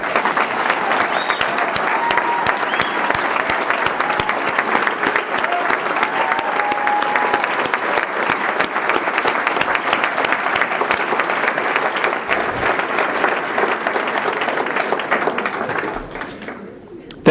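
A large crowd at a state Republican party convention applauds veterans in steady, dense, sustained clapping that keeps an even loudness before fading near the end.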